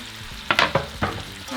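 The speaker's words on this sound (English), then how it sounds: "after 5 minutes and your bacon has let out some of the grease, we're going to add our pork" Bacon with pork added to its rendered grease, frying and stirred in a pan on a stovetop for discada norteña; a steady sizzle with a few sharp scraping stirs in a short stretch, no talk.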